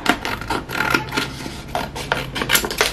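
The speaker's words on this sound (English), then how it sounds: "okay, so I'm gonna take my scissors," Close, repeated snipping and rasping sounds come in irregular bursts, like scissors cutting through vinyl sheet.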